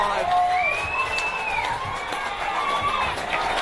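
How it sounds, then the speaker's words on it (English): Football crowd at KG5 roaring and whooping at the final whistle of an NPL Tasmania match between Glenorchy Knights and Launceston City, a dense sustained cheer with shrill whistles and shouts rising above it. "Listen to the crowd at KG5."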